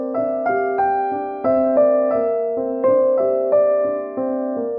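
Solo piano plays the theme from Debussy's Reverie in strict, even rhythm, a gentle sequence of evenly spaced notes and chords ringing clearly at moderate volume.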